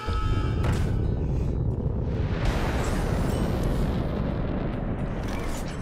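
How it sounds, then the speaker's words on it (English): A rocket launch explosion in the Hearthstone card game, heard as a loud, sustained rumbling boom that fills the whole stretch with dense low-end roar and a brighter burst midway. "Got to launch a rocket."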